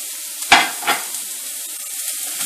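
A spatula scrapes the pan twice over continuously frying chicken, the first stroke sharp and loud, the second softer.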